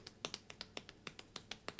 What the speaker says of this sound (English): I'll take two fingers with one hand and my hand open in the other, and I do little pats